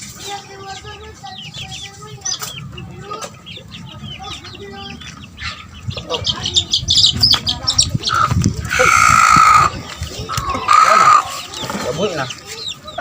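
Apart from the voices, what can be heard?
chicks and chickens clucking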